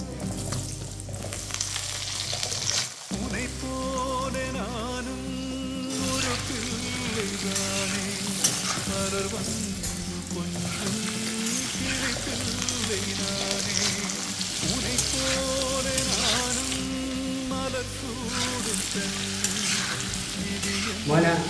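Papaya pieces fry in leftover oil in a pan for a papaya curry, a continuous sizzle with repeated stirring scrapes that carries on throughout.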